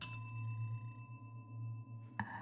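A single bell ding sounds near the end, brief and bright, in a video game round of a roulette-style gun game, following a sustained low electronic hum and tone.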